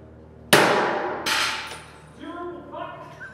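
Glass smashed apart in a break room: a sudden loud crash with a bright shattering burst, then a second impact and scattered tinkling shards settling, with faint voices around.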